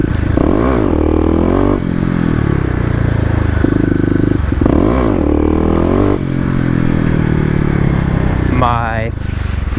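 A Kawasaki KLX250 dirt bike with a 13-tooth sprocket on wet roads, revved hard for wheelies: the engine repeatedly climbs and drops in pitch, loud and close, with rattling, wind and a voice mixed in.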